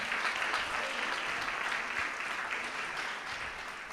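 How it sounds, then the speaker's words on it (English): A large crowd gathered outdoors for a Diwali celebration on Trafalgar Square in London applauds in a dense, continuous wash of clapping that stays fairly even and then eases slightly toward the end. "big round of applause"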